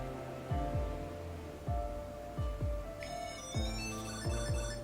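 An electronic ringtone-style melody chiming from a small Bluetooth tracker tag triggered by a phone app's find function, a few repeated tonal phrases heard close by, with brief rustling handling noises underneath.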